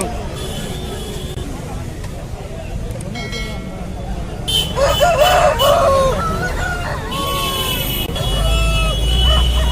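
Several country chickens cluck and a rooster crows repeatedly amid a busy crowd at a weekly chicken market in Nallapadu, with steady chatter and background bustle throughout.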